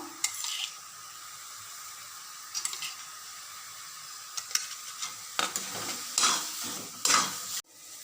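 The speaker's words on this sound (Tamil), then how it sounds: "சுருள வதக்க போகிறோம். கிண்டிக்கிட்டே இருக்கணும், விடாமல் கிண்டிக்கிட்டே இருக்கணும்." Pumpkin halwa sautés in ghee with a soft sizzle while a spoon scrapes and stirs the pan in short bursts, the scraping growing louder and more frequent toward the end.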